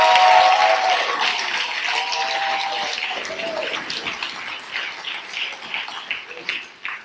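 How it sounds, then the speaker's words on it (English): A church congregation claps hands in applause during a service, a dense, loud burst of clapping that gradually thins and fades over several seconds. "Give the Lord a great big hand clap."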